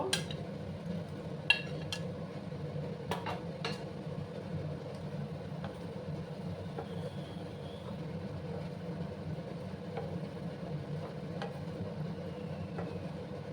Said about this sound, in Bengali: এখন আমি দেখো ঢেঁড়সগুলো দিয়ে একসাথে কষিয়ে নেব